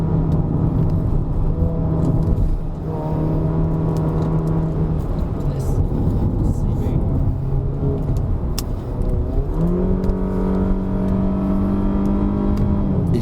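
A Peugeot 3008 SUV pulls hard at full throttle, its engine note climbing steadily in pitch, dropping back at automatic upshifts around three and nine seconds, then rising again, loud and continuous from inside the cabin.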